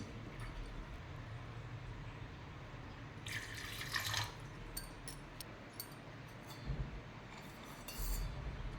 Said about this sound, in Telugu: కప్ తోటి కప్పు బావు నుంచి కప్పున్నర వాటర్ పోసుకోవాలండి